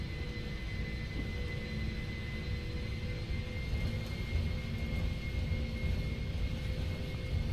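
Boeing 747 jet engines spooling up to takeoff thrust in the Prepar3D flight simulator, a steady broad rumble with a faint high whine, continuous and even with no talking.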